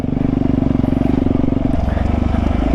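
Dirt bike engine pulsing close and loud in a rapid even rhythm, its pitch shifting as clutch and throttle are worked on rough off-road ground.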